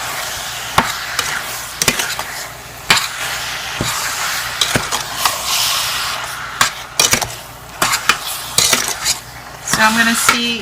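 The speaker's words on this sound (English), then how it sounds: "I'm going to put my heat on high and stir this really well" A spoon stirs mango chutney in a pot over high heat, giving repeated metallic scrapes and clinks against the pot over a soft simmering hiss, close and loud, with no talk.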